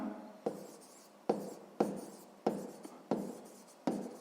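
Pen or pencil strokes on notebook paper for a sixth-grade maths exercise: a steady series of about seven scratchy bursts, each starting sharply and trailing off, close and quiet with no talking.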